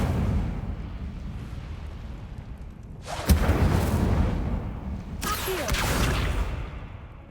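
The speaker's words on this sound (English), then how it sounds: "Incendio!" Incendio fire spells cast in Hogwarts Legacy, two sharp whooshing bursts of flame a couple of seconds apart, each flaring loudly over a low rumbling game background before fading.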